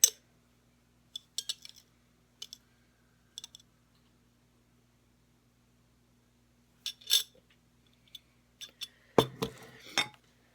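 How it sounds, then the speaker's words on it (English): A small glass jar holding oil, used for candle crafting, gives sparse quiet clicks and clinks, then a brief burst of rattling shakes near the end. "I'm going to shake it up again because I want that oil to get in there"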